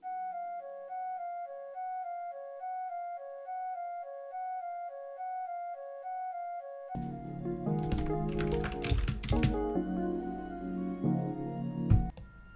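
A piccolo woodwind preset from BBC Symphony Orchestra plays a repeating triplet figure at soft, varied velocity in an FL Studio pluggnb beat, a clean high melodic line alone for seven seconds before a dense, louder full beat takes over.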